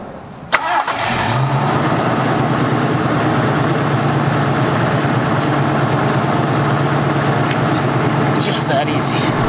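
A Ford Fairmont's engine cranks briefly, catches and settles into a loud, steady idle close to the microphone, holding an even rumble with no talking.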